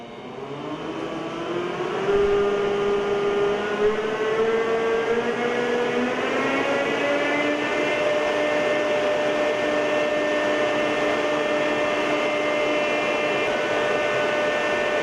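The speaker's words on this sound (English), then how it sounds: "Now the fan is at its full speed." A computer-controlled wind power system's fan spins up from about 30% to full speed. Its steady whirring hum rises in pitch over the first several seconds, then holds a constant, close, continuous drone.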